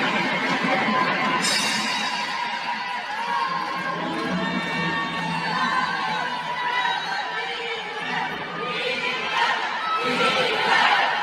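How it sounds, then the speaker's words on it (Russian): Dense arena crowd at a world championship mas-wrestling bout in Yakutia, cheering and chanting a wrestler's name. The roar stays steady and loud throughout, with rising swells near the start and the end. "Дима, вот, да, слышим, скандирует"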